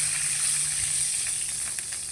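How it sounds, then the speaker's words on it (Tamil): Loud, steady sizzling hiss as water hits a hot pan while making upma, with a faint bubbling undertone and no talking. "இப்போ இதில் தண்ணி விடுவோம்."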